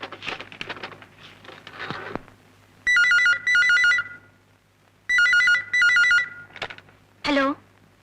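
A mobile phone ringtone rings in two loud double bursts of bright electronic tones, separated by a pause, with quiet talk before and after.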